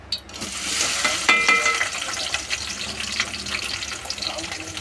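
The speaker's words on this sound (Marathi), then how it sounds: "तर आपण या तेलात ना चॉप केलेला कांदा आणि टोमॅटो आणि हा ठेचलेला लसूण टाकूया." Chopped onion, tomato and crushed garlic hit hot oil in a pan and fry with a loud, steady sizzle and crackle that fills the clip from start to end.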